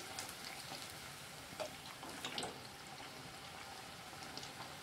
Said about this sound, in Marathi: असं चांगला गोल्डन ब्राऊन कलर येईपर्यंत हे वडे चांगले तळून घ्यावेत.